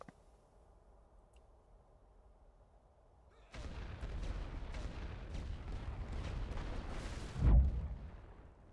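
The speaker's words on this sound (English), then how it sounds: "Right, let's stick some artillery in here." Artillery fire in The Great War Western Front, a World War I strategy game set at Ypres: after a quiet stretch, a dense, continuous rumble of guns sets in, with one heavier, louder boom near the end before it fades.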